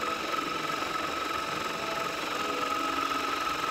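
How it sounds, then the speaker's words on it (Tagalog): A grinder runs steadily as it grinds cacao into liquid chocolate, making a constant whirring motor drone with a faint whine, close and even throughout, with no talk. "So nakikita nyo, 4 na beses po itong inulit-ulit na gilingin."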